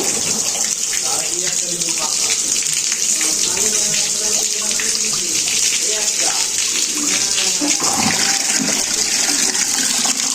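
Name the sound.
water being poured out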